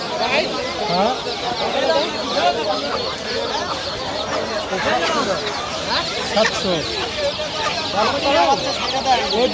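Many chickens cluck and squawk continuously amid a busy crowd murmur at the Goalimandra poultry market in Munshiganj, Bangladesh, a dense, steady market din.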